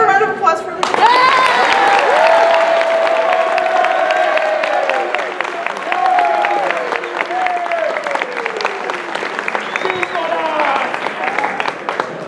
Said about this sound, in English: could we have a round of applause for everybody?